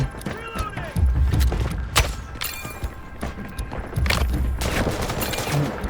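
Gunfire while shooting bots in the video game Delta Force: dense, loud bursts of rapid automatic shots with heavy thumps and mechanical clatter, continuous over the whole stretch.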